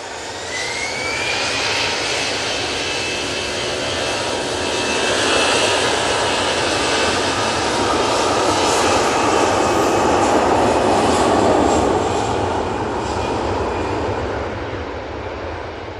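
An Easyjet airliner takes off at Manchester Airport, its jet engines building into a loud, sustained roar that swells and peaks midway, then slowly fades as it climbs away.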